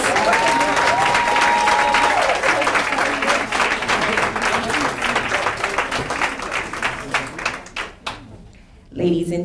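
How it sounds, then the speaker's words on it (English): A crowd applauds a graduating youth council class at a 2018 ceremony in Savannah, steady dense clapping that fills most of the stretch before thinning into scattered claps and fading near the end. "Give them a round of applause for their accomplishments."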